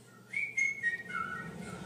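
A clear, high whistled melody in a K-pop song rises and falls in short phrases, sitting over a soft, low musical backing.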